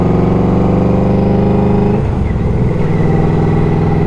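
A Yamaha Royal Star Venture V4 touring motorcycle engine pulls hard, a loud, steady low-pitched drone that shifts about halfway through as the rider changes gear, then keeps building, recorded close up and on its own.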